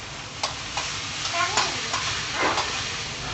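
Teppanyaki food sizzling on a hot grill at a Benihana restaurant in Jeddah, a steady close frying hiss broken by light spatula clicks and scrapes, with voices talking quietly in the background.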